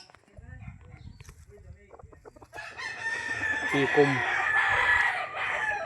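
Chickens cluck and a rooster crows loudly nearby, over a busy farmyard background with some faint human voices, at a backyard chicken breeder's yard in Rosario, Batangas.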